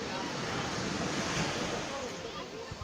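Sea waves wash steadily onto an island shore, a continuous loud roar of surf mixed with wind buffeting the microphone.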